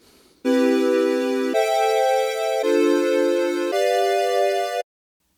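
Four sustained synth chords in a steady 1-6-2-5 progression, each held about a second, bright and loud with no other sounds.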